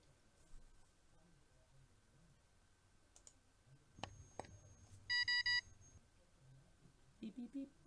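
A curing light in a tooth cavity surgery simulator video game gives a short burst of three or four sharp electronic beeps near the middle, amid scattered clicks and faint background noise.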